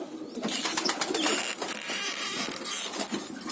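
Pigeons kept as pet birds cooing and calling in an enclosure, a busy overlapping chorus of soft bird sounds with light rustling and creaks, no voices.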